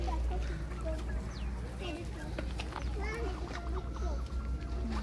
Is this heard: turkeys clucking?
yes